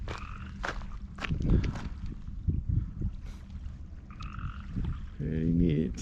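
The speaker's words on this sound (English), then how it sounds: "Frogs are awesome." Frogs croak in short, scattered calls near a lake in a forested nature preserve, several brief croaks and rattling trills standing out over quiet outdoor background, with footsteps and faint voices.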